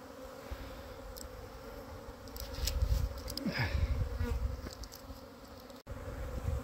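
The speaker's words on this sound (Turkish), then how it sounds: "Ana muhtemelen şu arı öbeğinin içerisinde." A honeybee swarm clustered on a branch gives a continuous dense buzzing, close and steady, swelling louder in the middle with individual bees passing near.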